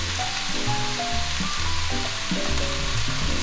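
Beef sautés with a sprinkle of sugar in a hot pan for gyudon, giving a loud, continuous sizzle close by with occasional stirring scrapes and no talking.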